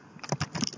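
Quick clicking keystrokes on a computer keyboard, a short burst of about half a dozen close, light taps in an uneven rhythm.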